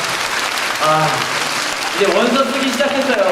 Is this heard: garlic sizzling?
no